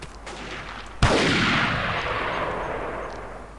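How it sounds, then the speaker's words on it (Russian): A single loud, sharp sniper rifle shot in the Delta Force: Task Force Dagger video game cracks out after a second of low ambient hum, then rolls into a long, slowly fading echo. "опять снайпер работает откуда-то с горы"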